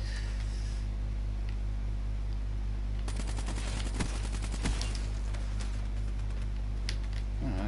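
Bursts of automatic gunfire in Black Ops 3 multiplayer, rapid rattling shots in a couple of clustered volleys over a steady low hum, moderately quiet with no talking.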